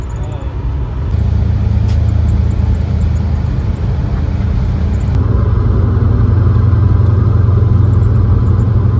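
A smoky, worn 1964 Plymouth Fury with a manual clutch and overdrive rumbles along the road, its engine drone low and steady from inside the car, rising slightly partway through.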